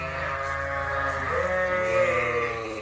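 A sheep on a wool farm bleats loudly and close up, one long wavering cry that rises and bends in pitch, heard alone.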